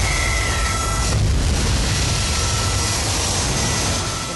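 A plane's engine in the video game Crysis 3 drones as a loud, dense, steady roar, close and continuous, with a brief heavier surge partway through.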